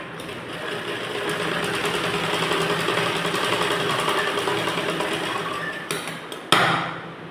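A sewing machine stitches a blouse in one long continuous run of fast mechanical whirring, close-up, stopping near the end with a couple of sharp clicks.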